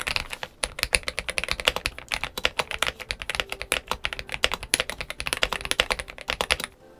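Fast, continuous typing on a stock GMK67-S mechanical keyboard, dense clacky keystrokes in an uneven rhythm, close and fairly loud, stopping just before the end with no voices.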